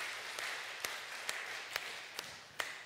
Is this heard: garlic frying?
no